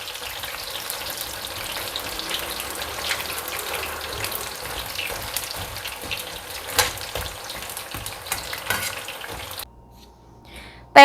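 Sweet potato slices sizzling as they fry in a pan, a steady crackling hiss of hot oil that runs close and continuous for most of the time, then drops away suddenly near the end.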